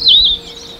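A single short high-altitude bird call in the Taroko mountains, one clear chirp lasting a fraction of a second and then fading into faint background hiss.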